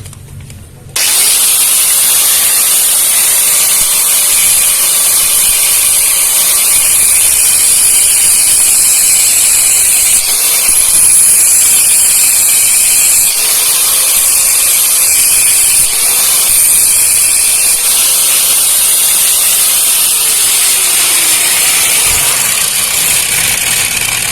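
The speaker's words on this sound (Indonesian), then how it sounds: "jadi untuk di gerinda listrik ini kita menggerindanya sembari kita tekan ya guys ya" Cordless brushless electric grinder running while pressed down onto a workpiece, a loud continuous high-pitched whine with a hissing edge that holds steady for over twenty seconds.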